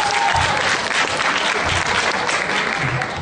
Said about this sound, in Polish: gromkie brawa dla Maciej.